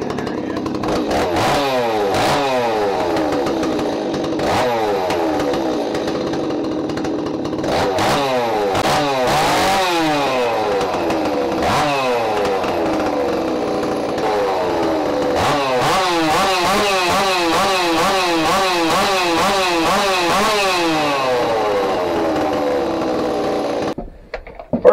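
A ported big-bore Stihl 026 chainsaw runs on a dyno, its two-stroke engine screaming loud and close in repeated rising rev pulls that climb and drop over and over, ending abruptly.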